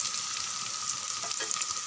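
Four large onions sauté in a pan for chicken biryani, giving a soft, even frying hiss throughout with no distinct stirring strokes, close but fairly quiet and without speech.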